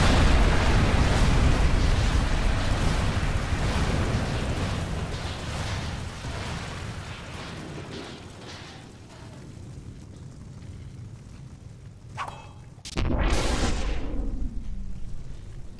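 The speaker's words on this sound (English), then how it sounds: "I'm setting this on fire." Fiery explosion in the Dangerous Golf video game: a loud roaring blast that slowly fades over several seconds, followed by a sharp crash and a second burst near the end, with no talk.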